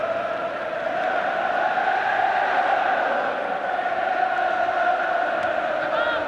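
A football stadium crowd at an England against USSR friendly in 1984 makes a steady, dense roar of voices, cheering and chanting at a constant loud level throughout, with no single voice standing out.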